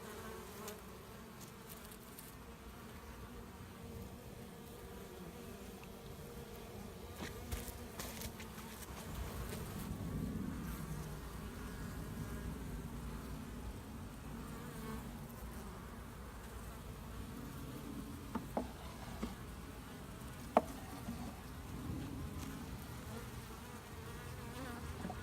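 A honey bee swarm on the ground buzzes in a continuous low drone, swelling and easing slightly with a few faint handling clicks, no voices.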